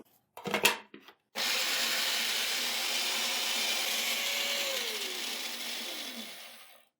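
Garlic cloves, green chillies and a medium onion are chopped in an electric chopper: a few brief clatters, then a loud steady whirring buzz that runs about six seconds and winds down at the end, with no talking.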